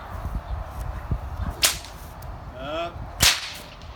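Two sharp whip cracks, loud and close, about one and a half seconds apart, over a low rustling background.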